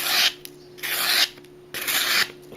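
A knife blade scraped across plain black sandpaper in long abrasive strokes, three loud rasping passes separated by short pauses, close up with no talking.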